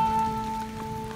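Steady rain falls on a mountain trail on Mount Merbabu during a hike, a dense, even patter under a faint continuous tone, with no voices.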